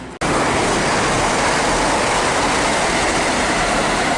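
A Chiltern Railways class 165 diesel multiple unit passes close by near Wembley Stadium on the Chiltern Main Line, a sudden loud onset of rushing rolling noise that holds steady and dense to the end.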